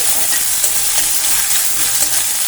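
A medium onion fries over a medium gas flame in a pan and is stirred, giving a loud, continuous sizzle with repeated scraping strokes and no talk.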